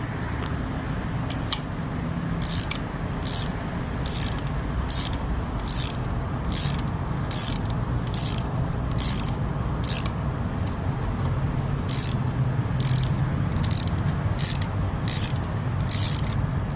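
Ratchet wrench with a 14 mm socket working a motor mount bolt loose on a 2008 Toyota Avalon Limited, passenger side: a long series of sharp, evenly spaced clicks in repeated bursts over low garage background noise.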